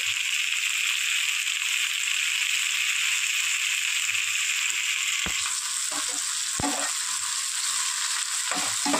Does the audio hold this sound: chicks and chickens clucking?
no